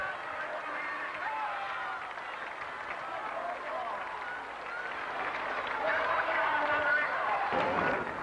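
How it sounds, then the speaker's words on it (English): A huge crowd cheering and applauding runners in the 1983 Doncaster St Leger Half Marathon, a sustained roar of applause with a narrator speaking over it, swelling louder near the end. "urged on by the cheers and the applause of this huge crowd"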